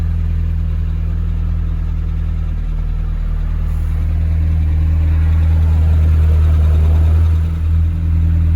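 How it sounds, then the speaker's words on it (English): Lamborghini Temerario engine idling, a loud steady low rumble heard from inside the car, holding even with slight swells near the end. "I'm just sitting in an idling car"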